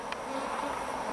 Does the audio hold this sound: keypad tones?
no